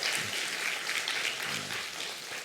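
A church congregation in a Korean Sunday service applauds, a steady sustained wash of many hands clapping together, fairly loud and continuous with no voices over it.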